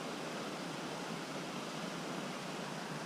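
Uskut waterfall near Privetnoye village: a dense, even roar of falling water fills the whole stretch without a break, broadband and steady, with no voices over it.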